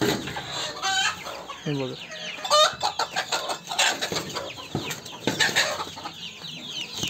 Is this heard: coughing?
no